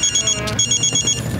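A telephone rings with a bright, pulsing electronic trill, loud and close, repeating in quick bursts with a brief gap midway.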